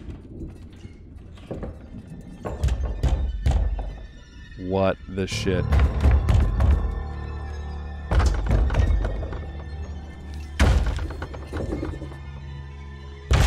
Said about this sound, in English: Someone's banging at the cellar door and won't stop.